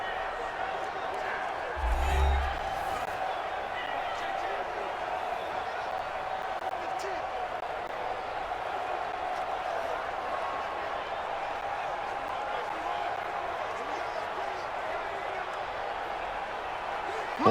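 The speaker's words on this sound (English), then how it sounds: "The crowd getting into it as we come up on a big third down." Stadium crowd noise from the Madden NFL 20 football game, Buffalo Bills against the New England Patriots, swells as a big third down approaches, a steady roar under a commentator's voice with a brief thump early on.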